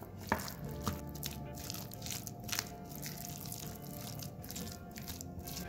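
Diced onion and minced tomato being stirred together in a bowl for fresh guacamole, with soft wet squelches and light scraping taps, close and quiet, no talk.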